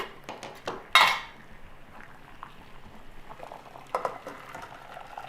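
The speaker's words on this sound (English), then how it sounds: "you're going to have a small pan of water boiling. You're going to put the nuts in there and let them boil" Chestnuts boil in a small pan of water with a soft, faint bubbling and simmering, broken by a couple of brief metallic clinks of pan or utensil, close by and quiet.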